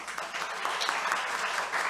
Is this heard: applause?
yes